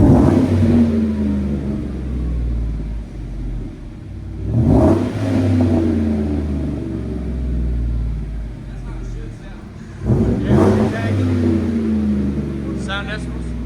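A 2016 Chevy Silverado 5.3L V8 with a Magnaflow Magnapack, resonator delete and dual black tips idles with a deep rumble, then is revved hard twice, each burst rising loudly before settling back to idle.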